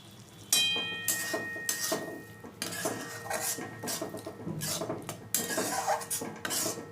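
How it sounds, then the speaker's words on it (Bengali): Finished tomato chutney is scraped and poured from a pan into a bowl, with repeated clinks and scrapes of a spoon against metal cookware, close and fairly loud with no talking. "এবার একটা আমি পাত্রে ঢেলে নিচ্ছি"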